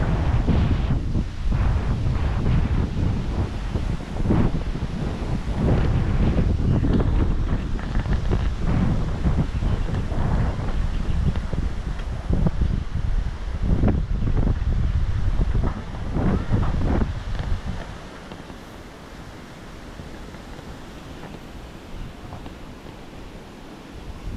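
Strong typhoon wind, without rain, roars and buffets the microphone in heavy, continuous gusts on Panay, easing somewhat toward the end. No one speaks.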